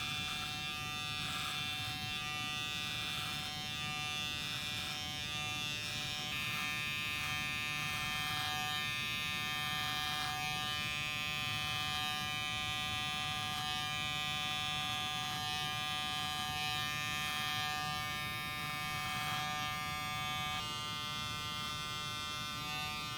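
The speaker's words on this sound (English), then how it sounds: "all I'm doing is resting the back of the clipper, the blade right here, just right on my beard" A close electric beard clipper buzzes continuously as its blade rests against a beard while trimming, a steady, even whine with slight rhythmic variations as it moves through the hair.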